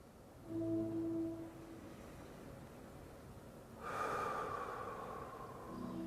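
Slow, audible breaths during a guided meditation: a long exhale through the nose, a pause, then a fuller breath. It sounds close and soft against a quiet room hum.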